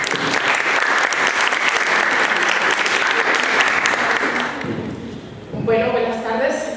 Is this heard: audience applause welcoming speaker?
yes